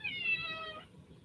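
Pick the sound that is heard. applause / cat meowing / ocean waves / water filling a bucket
cat meowing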